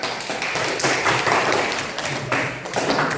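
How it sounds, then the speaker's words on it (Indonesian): A classroom audience claps for a student group after their presentation, a steady, dense patter of many hands sustained throughout at moderate volume. "Tepuk tangan untuk kelompok 3."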